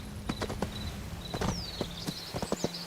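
Horse hooves clip-clop in an irregular series of sharp thuds in a video game, joined by whooshing and swooping game effects, close and moderately loud.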